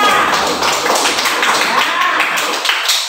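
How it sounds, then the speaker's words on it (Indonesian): Classroom applause from a group of pupils, with dense, steady clapping throughout and a slight swell near the end. "tepuk tangan untuk kawan kita yang sudah baca"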